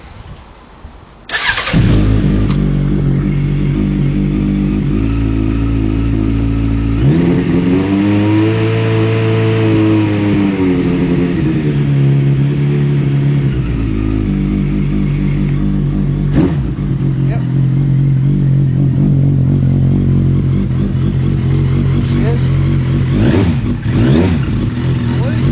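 A Suzuki Bandit 1200 motorcycle fitted with an ignition advancer cranks and fires up, then idles loudly with several rising and falling revs, close by and steady throughout.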